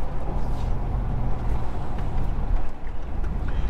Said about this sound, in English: Just let the auto run through the gears on its own.